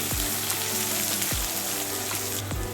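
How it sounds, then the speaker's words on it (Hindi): Onions fry in hot oil for prawn biryani with a steady close sizzle, broken by a few soft stirring scrapes. "ऑनियन को थोड़ा सा ब्राउन करके ले लेते हैं, एकदम भून के अच्छी तरह।"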